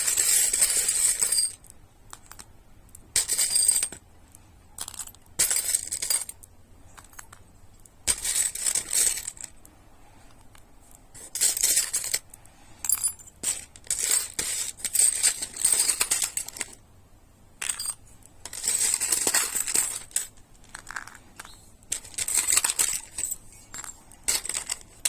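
Fortune-telling charms cast and shuffled for a tarot-style reading, giving repeated bright metallic clinks and rattling jingles in irregular bursts over about twenty-five seconds, close and fairly loud with no talk.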